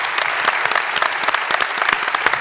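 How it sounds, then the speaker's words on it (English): Audience applause at the close of a workplace safety talk, brisk crisp clapping from a moderate crowd, close and loud, filling the whole moment without any voices. "Please, could you give them a round of applause as we finish?"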